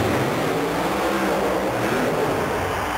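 A loud, continuous mud racing funny car engine roar with throttle surges, raw and close, filling the whole stretch without any talking, at a 1991 monster truck and mud racing event in Philadelphia.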